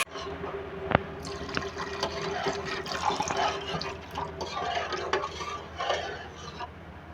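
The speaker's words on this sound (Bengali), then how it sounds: "এটা পাতলা করব, তার জন্য আর একটু জল দেবো।" Water is poured into a simmering pot of mango and snakehead fish curry, a soft continuous splashing with a few drips and light clinks of a pot, close by and fairly quiet.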